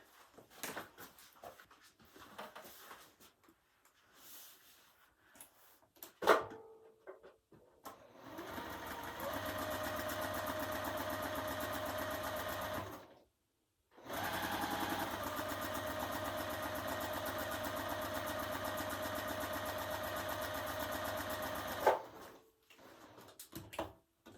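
A sewing machine stitches a curved quilt seam in two long, even bursts of rapid stitching, separated by a short pause. Quieter handling noises come before and after the bursts. No one talks.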